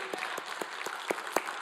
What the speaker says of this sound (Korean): 우리 하나님께 영광의 박수 한번 합시다.